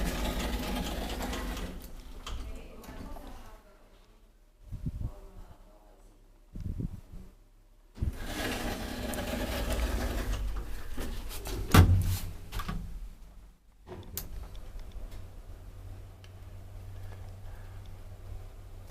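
An IFMA roped hydraulic elevator runs in a hotel in Arad, Romania, with motor hums and pumping drones broken by sharp clunks and door thuds, moderately loud and close, no speech.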